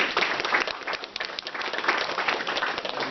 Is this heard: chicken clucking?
no